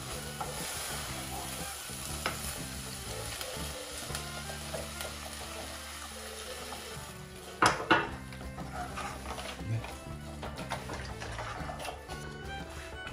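Tomato sauce being stirred into ground meat frying in a pan, with a steady sizzle and scraping stirs throughout, plus a louder clatter of utensil against the pan partway through.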